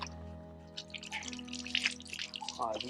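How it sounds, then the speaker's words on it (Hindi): Water poured over someone's hands in a village home, with soft splashing and dripping patter for about three seconds at a fairly quiet, close level, plus a brief voice near the end. "ले हाथा पानी गिर दे थोड़ा"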